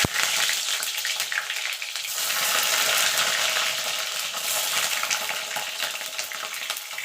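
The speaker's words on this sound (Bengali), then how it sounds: "বেগুনটা ভেজে নেব" Eggplant pieces frying in hot mustard oil, a loud, dense, continuous sizzle close by that swells and eases slightly, with no voices.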